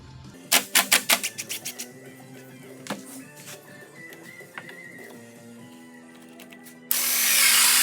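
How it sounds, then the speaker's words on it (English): A power drill backs a screw out of a wooden horizontal beehive under construction, with a run of short rattling bursts early on, scattered clicks and knocks after, then a sustained whirring drill run near the end. "Again, take the screw out."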